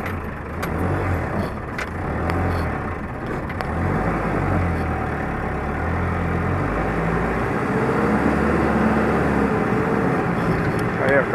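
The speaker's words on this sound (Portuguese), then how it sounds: "Aí, o caminhão quase não sobe." A truck engine strains to climb off a river ferry at São Romão. A heavy, low drone holds and swells as it labours, with faint voices underneath.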